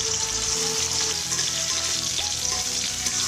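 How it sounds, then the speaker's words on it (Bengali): Raisins and cashew nuts fry in hot oil for basanti pulao, giving a steady, dense sizzle and crackle that runs evenly throughout with no talking. "তেলটা গরম হয়েছে, এবার আমি কিশমিশ আর কাজু বাদামগুলো একটু ভেজে নিচ্ছি।"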